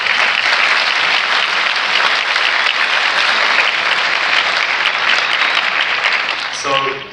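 Loud, dense audience applause fills the room with steady clapping, then tapers off at the end.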